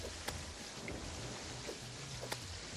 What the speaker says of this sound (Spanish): Parece que está lloviendo, sí.